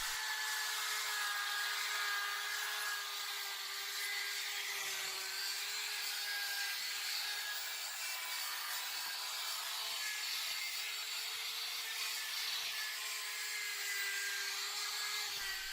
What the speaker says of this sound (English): The process starts with a coarse P46 nylon brush on stubborn logs